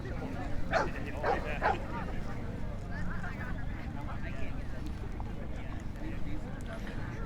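Several American Bulldog males bark at an outdoor bully breed show in Tonopah, Arizona, a quick burst of barks early on under steady crowd chatter and someone talking nearby.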